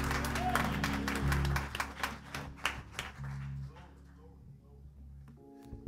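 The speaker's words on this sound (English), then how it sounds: "With a hand clap, say thank you." Church congregation clapping their hands in thanks during a Sunday service, a run of sharp, fairly close claps over a low sustained organ-like drone, tapering off as voices carry on.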